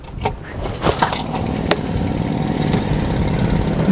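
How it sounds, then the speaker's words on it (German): A small outboard motor on an inflatable fishing boat starts with a few sharp rattling pulls and clanks, then catches into a steady, close, rumbling idle. "Dazu starte ich den Motor."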